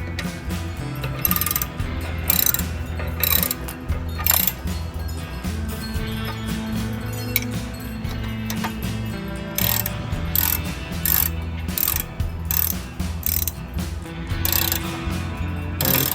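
Hand ratchet tightening a bolt on a Jeep WJ upper A-arm spacer, rapid repeated clicking strokes in a steady rhythm throughout, close and continuous with no talking.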